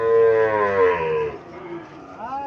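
A young Sahiwal bull calf gives one long, loud moo that fades out, followed by a shorter, fainter call near the end.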